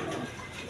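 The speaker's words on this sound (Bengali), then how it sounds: "দর্শকবৃন্দ, এখানে এক পেয়ার কবুতর আছে" A pair of red-eyed pigeons, a quality big-size pair kept for sale, coos softly amid a steady hum of background noise, with low murmuring calls that rise and fall without clear breaks.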